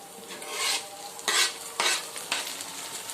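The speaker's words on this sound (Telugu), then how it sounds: "ఆ ఉల్లిపాయ ఉల్లిపాయ కొంచెం ఫ్రై అవ్వనిద్దాం" Onion frying in a pan for a tikkat sevaya bath recipe, with a steady sizzle broken by several bursts of stirring scrapes at close range and no voices.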